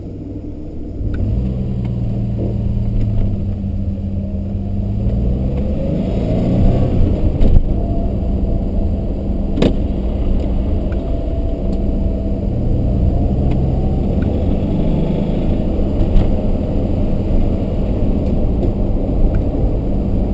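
A 1981 DeLorean DMC-12 with a 5-speed manual pulls away on the road, its engine a steady close rumble heard from inside the car, with faint rises and a few light knocks and no talk.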